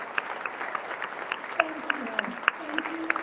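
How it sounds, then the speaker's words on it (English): An audience at a political gathering claps in a loose, crackling burst with a few louder individual claps standing out, and a voice talks over the applause. "Let's give them a round of applause"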